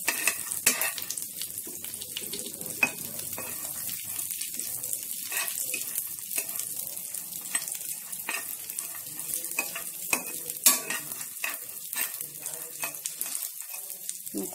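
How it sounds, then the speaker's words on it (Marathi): Rice roasts in ghee for Marathi rice kheer while being stirred, with repeated light scraping and clicking of a spoon against the pan over a faint, airy sizzle, close and fairly quiet throughout. "कलर येऊपर्यंत छानस भाजून घेऊया"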